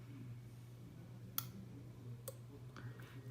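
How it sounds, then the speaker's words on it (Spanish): A Ryosva smart garage door opener switch, not yet connected to a door, gives a few faint, sharp clicks spaced about a second apart over a low steady hum. "simplemente vamos a escuchar un clic"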